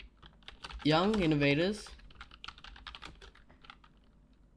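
Computer keyboard keys tapped in quick irregular bursts while typing HTML code, close and fairly quiet, with a brief spoken phrase partway through.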